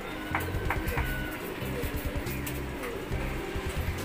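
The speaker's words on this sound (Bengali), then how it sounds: "এখানে এক পেয়ার সবুজ গলা কবুতর দেখতে পারতেছেন" A pair of green-necked local pigeons coo close by in a quick series of low, throaty calls, repeating in short bursts over faint background noise.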